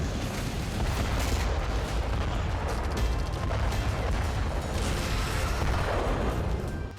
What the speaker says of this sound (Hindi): ये आग, ये विस्फोट